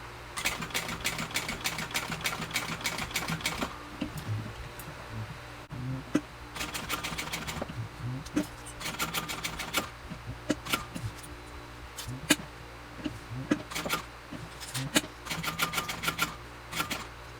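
Domestic sewing machine top stitching a backpack, heard as rapid mechanical bursts of stitching broken by short pauses, fairly close and moderately loud, with no talking.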